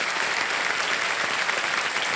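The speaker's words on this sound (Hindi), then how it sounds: "तालियां बज जाएं इनके लिए" Dense, steady applause from a studio audience on the quiz show Kaun Banega Crorepati, cheering a contestant's win, continuous and fairly loud throughout the short burst with no talk over it.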